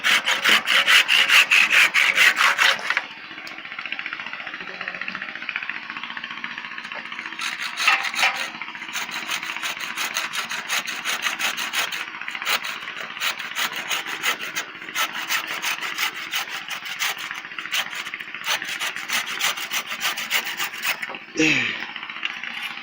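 Close, rhythmic rasping of a handsaw working through wood, strokes repeating steadily for a long stretch, with a brief knock near the end.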